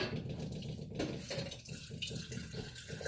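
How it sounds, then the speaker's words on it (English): Filtered water running from a tap into a container in a kitchen, filling up as a steady, continuous splashing stream, close and moderately loud, with no talking over it. "we're gonna let the filtered water fill up."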